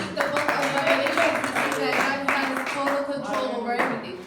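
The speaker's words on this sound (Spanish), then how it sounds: "Dale un aplauso a Dios." A church congregation claps together during a Spanish-language sermon, a dense sustained patter of hands with voices and a tonal background underneath throughout.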